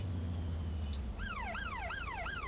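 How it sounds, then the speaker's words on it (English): A wailing siren in the video game Watch Dogs Legion sweeps down in repeated falling cycles, fairly loud over a low rumbling engine drone. "I got sirens, oh my god, sirens, sirens."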